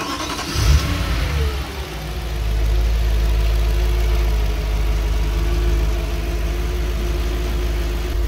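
An Audi S4 with a 4.2-litre V8 cranks and catches with a brief rev, then settles into a steady, close, rumbling idle.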